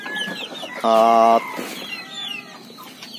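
Chickens cluck and a rooster gives a brief loud call as water is brought to them on a rural farm, with scattered nearby clucks around the call and a voice speaking intermittently.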